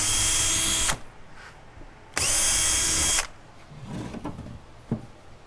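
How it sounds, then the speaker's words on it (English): Two loud bursts of a power drill boring through wood, each about a second long, separated by a pause, followed by quieter clunks and handling noises. "I'll drill from the other side."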